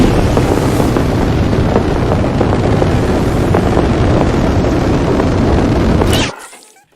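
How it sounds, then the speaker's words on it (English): A jetpack sound effect built in layers: a dense, roaring rush of engine and air blast holds steady and loud for about six seconds, then cuts off abruptly and trails away into silence. "This jetpack sound is divided in 3 parts."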